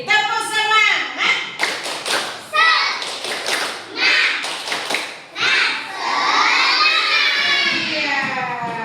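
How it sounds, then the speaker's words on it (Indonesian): Rhythmic spirit clapping by schoolchildren in a classroom, clustered claps in patterned bursts mixed with loud chanting and shouting, ending in sustained excited cheering. "Tepuk semangat"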